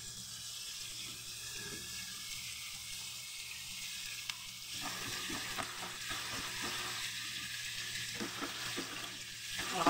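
Onion is sautéed alongside pork in a pan for pork sinigang. A quiet, continuous frying hiss runs under light stirring clatter, growing slightly busier toward the end, with no talk.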